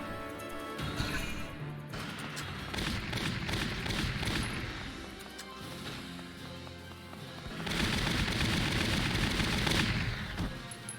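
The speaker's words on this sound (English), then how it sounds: "And there's my interception fire." Interception gunfire in the video game Valkyria Chronicles, dense rapid bursts of shots and crashing impacts rolling continuously, fading slightly mid-way, then intensifying again toward the end.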